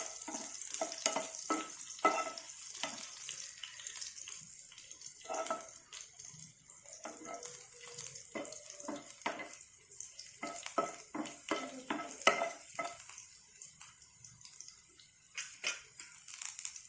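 Masala dosa filling frying in a pan, with soft sizzling under repeated scraping and stirring strokes of a spoon, close and fairly quiet in irregular bursts.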